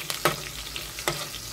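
Chicken breast and mushrooms sautéing in a pan, a steady low sizzle broken by a few sharp scraping stirs, close and fairly quiet, with no voices.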